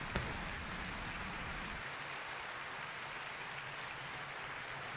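Applause rings out in the Wind Temple in Zelda Wind Waker HD, a dense clatter of claps that is fullest at first and then thins into a lighter, steady patter.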